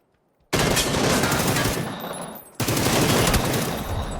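PUBG gunfire during a drop shot on console breaks out suddenly after a short silence as loud, sustained automatic fire, stops briefly and then resumes for a second long burst.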